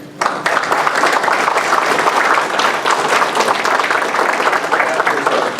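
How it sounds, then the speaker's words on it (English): An audience breaks into sustained applause for police officers, a sudden onset followed by dense, even clapping from a crowd that carries on for several seconds. "So I'd like to give all of you a round of applause for all that you do."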